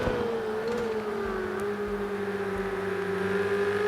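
Onboard sound of a Porsche GTE race car on a circuit, a continuous engine whine that holds a steady pitch and dips slightly as the car heads into the first turn, loud and close throughout.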